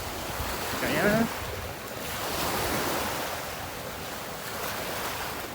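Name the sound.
ocean waves at Kingston Beach, Georgetown, Guyana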